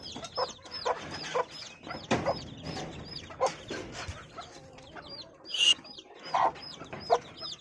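Fifteen four-day-old purebred village (gavran) chicken chicks peep in a high, constant chorus of thin chirps, with louder chirps rising now and then, heard close and alone.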